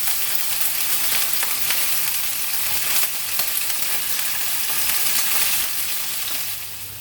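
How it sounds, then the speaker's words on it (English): Meatballs browning in a hot frying pan give a steady, loud sizzle and crackle that runs almost unbroken, with faint stirring movements underneath and no talking. "all we're going to do is just move them around, keep them moving, and then make sure they're browned"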